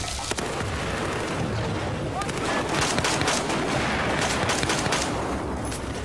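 Dense gunfire and booming blasts fill a Battlefield 4 firefight, with rapid overlapping shots and explosions rolling on continuously at high volume throughout.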